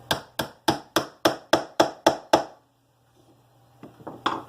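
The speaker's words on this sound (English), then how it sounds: "And then you tap in your nail." Nine crisp, evenly spaced hammer taps drive a nail into a wooden Langstroth beehive frame, close and loud, followed by a low hum and a few quieter knocks and handling sounds.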